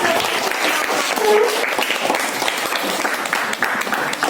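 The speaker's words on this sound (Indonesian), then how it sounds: "Oke, Mas, tepuk tangan buat kita." A school class applauds together, a busy, continuous patter of many hands clapping, close and loud, holding steady for several seconds with no speech.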